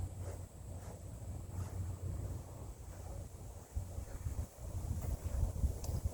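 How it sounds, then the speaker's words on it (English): Wind gusts outdoors around a charcoal grill, a continuous low rushing buffet with rising and falling bursts of microphone rumble. "The wind blew."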